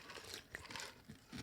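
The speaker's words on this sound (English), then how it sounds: "A little ice crunch in there too." Ice crunching and crinkling in a cup of cold brew coffee, a few short crackly bursts close by at low level with no talk.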